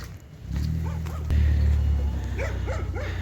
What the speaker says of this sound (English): Somebody's dog is having a fit, I'm not sure why.